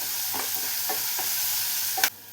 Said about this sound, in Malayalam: ഇനി ഇതെല്ലാം കൂടെ നന്നായി തന്നെ ഒന്ന് വഴറ്റിയെടുക്കാം.